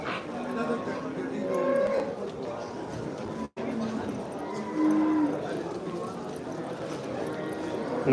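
Cattle and buffalo moo now and then, low and drawn out, amid a busy outdoor livestock market crowd with people talking and general commotion.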